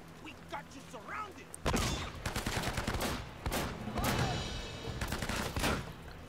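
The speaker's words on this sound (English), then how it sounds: "I need to dispose of all the enemies very quickly with my shotgun" Shotgun blasts ring out in a firefight from Uncharted: Drake's Fortune, a burst of several loud booming shots after a quieter stretch, with game sounds and a voice talking underneath.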